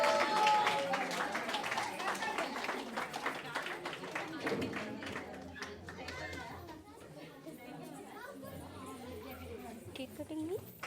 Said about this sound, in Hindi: और हम तालियां बजाएंगे प्लीज